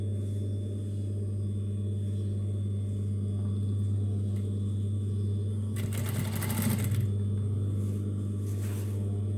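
A sewing machine stitches a fabric dress cover with a steady, close mechanical hum that runs continuously. A brief burst of brighter rattling comes near the end, and no one speaks.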